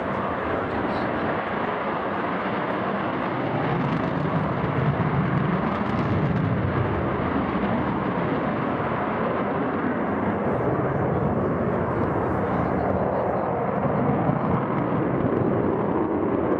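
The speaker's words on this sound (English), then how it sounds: "This particular aeroplane was the first B-2 version of the bomber" An Avro Vulcan XH558 delta-wing bomber roars overhead at the RIAT airshow at RAF Fairford, a loud, sustained jet rumble filling the air while a commentator's voice talks over it.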